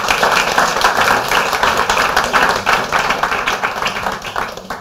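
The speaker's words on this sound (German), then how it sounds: "Bitte ein dicker Applaus." A crowd claps continuously, a dense wash of applause holding steady for several seconds before tapering slightly.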